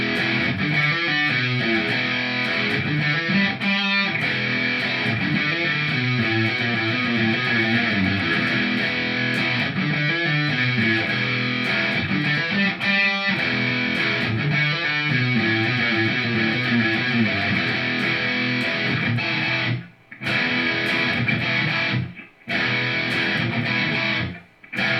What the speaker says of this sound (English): Then we get this hard hitter of a riff.